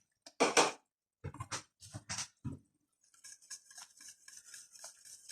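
A spoon scraping and stirring cheddar cheese into a pot of Mexican-style mac and cheese, several close, sharp clinks and scrapes at first, then a softer sticky squelching patter of mixing.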